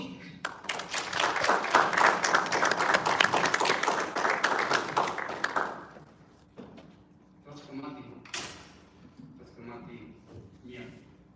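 An audience at an introductory talk on the Aztec calendar breaks into a burst of clapping for an ambassador, lasting about five seconds before fading, followed by scattered thumps and people talking.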